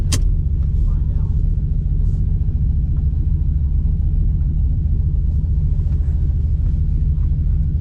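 A drag race car idles in the lanes before a burnout, a deep steady rumble close and continuous, with a sharp click at the start and faint voices underneath.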